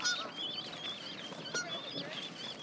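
Adult geese, upset parents of goslings being rescued, give repeated honking calls, fairly faint and a little distant, over quiet outdoor background.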